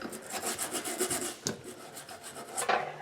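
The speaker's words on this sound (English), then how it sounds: "I'm going to take my brush and scrub" A brush scrubs a bathroom faucet in quick back-and-forth strokes, a close, rhythmic rasping rub with a few sharper scuffs along the way.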